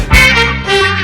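Instrumental music stem with the drums removed, separated out of a full song by Xtrax Stems 2 software, playing loud with sustained harmonic tones and no voice.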